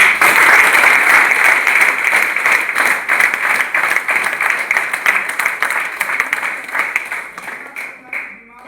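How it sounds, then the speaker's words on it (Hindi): Loud, sustained applause from a large seminar audience at a Hindi business event about AWPL products, steady dense clapping for about eight seconds before tapering off near the end. "एक बार जोरदार ताली"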